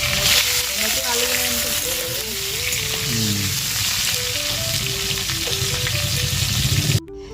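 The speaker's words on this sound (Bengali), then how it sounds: "তো আমি আলুটা আগে ভেজে নিচ্ছি" Freshly harvested new potatoes fry in hot oil over a stove, a loud, continuous sizzle with stirring clatter and occasional splashes, broken off abruptly near the end.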